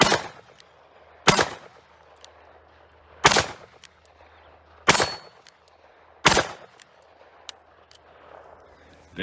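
A Taurus Model 66 revolver firing .357 Magnum rounds outdoors, five loud sharp shots spaced about a second and a half apart with quiet gaps between them, plus the start of another at the very end.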